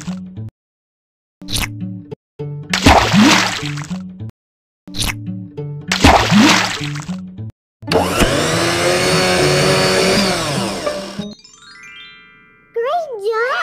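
In a children's learning game, a cartoon blender whirs as it makes a fruit smoothie, a loud, brief buzzing spin that comes after playful chimes and musical jingles.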